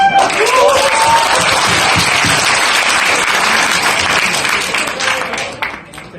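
A crowd at a high school alumni association president's inauguration bursts into loud, sustained applause. The thick, even clapping holds steady for several seconds, with faint voices underneath, then thins and fades out near the end.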